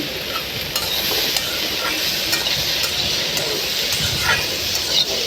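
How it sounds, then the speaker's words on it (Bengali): Okra frying in oil with turmeric and salt, a steady close sizzle with scraping stirs and occasional clinks of the utensil against the pan, no voices. "আপনারা এভাবে তেলের মধ্যে হলুদ আর লবণ দিয়ে ভাজি করবেন।"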